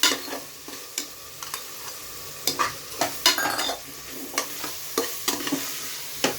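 Spices and ghee fry in a pan for a pea rice dish, with repeated irregular spoon scrapes and clacks against the metal over a soft sizzle, close and without talk.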